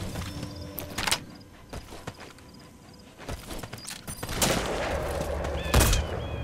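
Gunshots in Metal Gear Solid V, several sharp cracks spaced irregularly over a busy game backdrop with footstep-like clatter and ambient noise, the loudest hit near the end.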